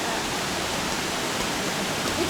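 A steady, dense roar of rushing water fills the clip evenly from start to end, like a waterfall heard close by with no other sounds.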